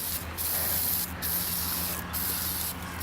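Water spray rinsing off a Honda B16A2 engine being swapped into a 1998 Integra, a steady close hiss of spray broken by short gaps every second or so, with a low background hum underneath.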